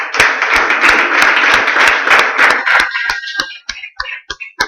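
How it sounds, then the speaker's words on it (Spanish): A church congregation claps at a Spanish-language evangelical service. Dense group applause fills the first half, then breaks into scattered, separate claps that fade out. "yo le voy a pedir un aplauso al Espíritu Santo"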